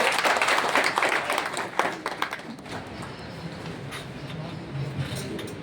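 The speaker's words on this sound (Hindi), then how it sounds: "जोरदार तालियां भी बजाते रहिए" Audience applause at a ceremony honouring soldiers during a Tiranga Shaurya Samman Yatra, a steady mass of clapping that is strongest early and then settles into a softer, sustained patter with some faint crowd noise.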